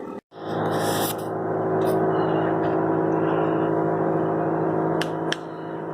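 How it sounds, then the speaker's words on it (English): A noisy commercial machine runs at about 4 AM, a loud steady broadband whir with a low hum, close and unbroken after a brief start, with faint clicks and squeaks on top. "This is the noise of this machine."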